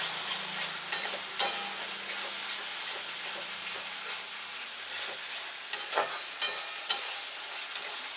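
Spices with chilli powder and salt are stir-fried in a pan for a raw jackfruit kofta curry: a constant close sizzle broken by regular spatula scrapes and clinks, with no speech.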